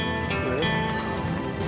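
Horses on a ranch in Australia's Northern Territory, with hoof clip-clops and a possible soft whinny over a dense, steady background; some voices seem mixed in.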